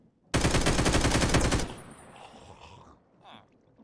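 Fast automatic gunfire in a modded Minecraft game, a loud close burst of rapid rhythmic shots lasting over a second, then cutting off to quiet game ambience with faint sounds.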